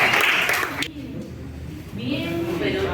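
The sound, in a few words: audience applause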